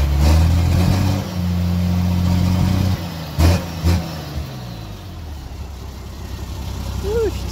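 A straight-piped Isuzu 6BD1T diesel in a 1991 Isuzu FTR dump truck idles with a loud, steady low rumble, broken by a couple of short blips midway and then settling back to a rough idle.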